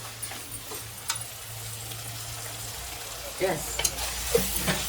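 Chili powder and turmeric being stirred into a prawn, egg and potato curry: a soft steady sizzle with a low hum beneath, then a few distinct scraping spoon strokes and clinks toward the end, nearby.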